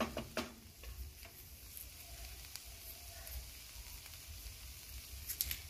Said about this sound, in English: we are adding all our veggies to this red oil